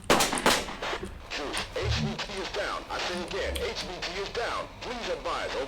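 Rapid gunfire from the tactical shooter Thunder Tier One during a co-op market mission: dense, loud shots and bursts crackle almost nonstop, and excited players talk over them.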